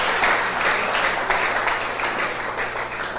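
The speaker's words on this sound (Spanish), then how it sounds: "Démosle un aplauso a Dios por ellos." A church congregation applauds during a sermon, steady dense clapping throughout at moderate volume with no speech over it.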